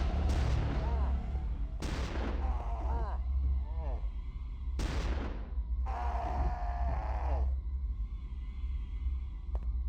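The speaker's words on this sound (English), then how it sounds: "They were shooting at the yellow smoke?" Bursts of gunfire in the PC survival horror game Curse: The Eye of Isis, several sharp broadband volleys separated by pauses over a steady low rumble, with voices and tonal game sounds between the shots.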